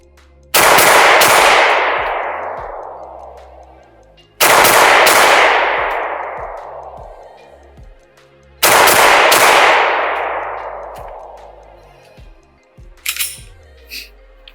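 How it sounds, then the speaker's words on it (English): Three loud, sharp pistol shots from a Ruger P07 upper on a P09 lower loaded with self-defense rounds, spaced about four seconds apart, each ringing out with a long decaying echo outdoors, followed by faint metallic clinks. "let's send you guys off with this self-defense rounds with the P09 mag"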